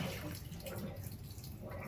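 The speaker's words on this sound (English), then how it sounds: "I'm going to go ahead and dump that hot water out." Hot water from a bag break-in soak is poured out, then tap water runs steadily in a sink; a continuous broadband watery rush, close and moderately loud, with no talking.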